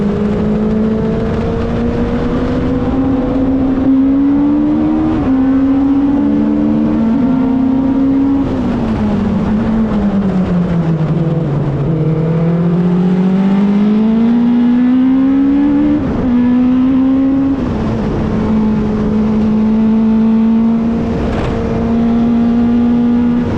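Race car engine screams through a circuit lap at close range, its pitch climbing and dropping steadily with upshifts and braking, a dip and recovery midway, continuous and loud with no talk.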